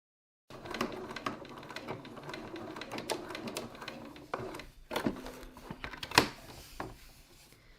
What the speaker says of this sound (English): Now I'm going to stitch another row, 6 millimeters or 1/4 of an inch from the edge